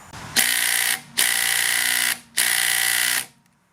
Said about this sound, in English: Let's go check it out on some lug nuts.